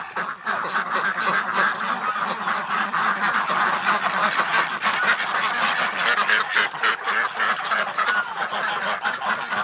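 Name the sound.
ducks being let out, quacking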